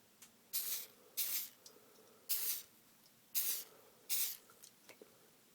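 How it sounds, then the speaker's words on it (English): Cooking spray from an aerosol can misted onto a two-part mold as mold release, five short hissing bursts in an uneven rhythm, close and fairly quiet, with small clicks between. "we're just going to shake up the cooking spray a bit"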